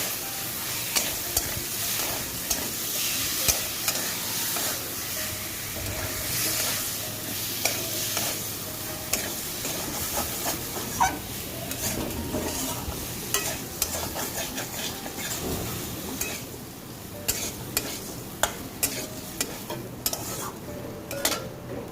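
Paneer frying with salt in a pan, stirred continuously, with a steady sizzle under frequent scraping and clinking of a spoon against the metal over a long stretch.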